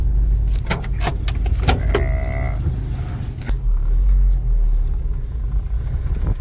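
An old manual car on its first drive in 20 years gives a loud, steady engine rumble from inside the cabin, with a few sharp clicks and rattles early on as it moves along.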